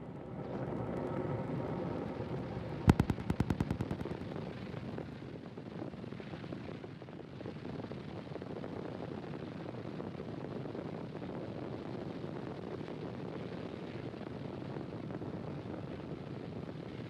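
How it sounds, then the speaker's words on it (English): A SpaceX Falcon 9 rocket climbs after liftoff from Space Launch Complex on a Starlink mission, its engines producing a steady broad distant roar with a brief crackling burst early on, blended with wind rumble. "At T plus 40 seconds into flight, Falcon 9 has successfully lifted off"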